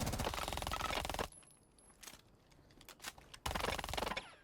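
Automatic weapon fire during recoil practice in Rainbow Six Siege: two dense, loud bursts of rapid shots at the start and end, with a quieter stretch of scattered single shots and clatter between.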